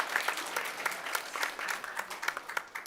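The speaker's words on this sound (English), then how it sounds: "So let's have a round of applause for our families." A school board meeting audience gives a round of applause for families, steady crowd clapping with some individual claps standing out, moderately distant and fading slightly toward the end.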